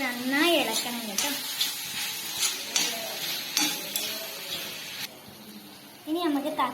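Onions and chicken masala fry in a pan with a soft sizzle while a spoon scrapes and stirs in repeated strokes, and someone talks over the cooking at the start and end.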